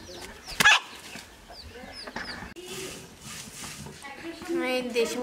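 A native village chicken clucks in short bursts near the mic, with a loud squawk early on, while people talk over a busy outdoor village background.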